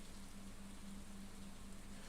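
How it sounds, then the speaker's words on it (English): Steady, quiet rainfall from the video game Stardew Valley, an even soft hiss with a faint low hum under it and no other sounds. "Hey, it's raining."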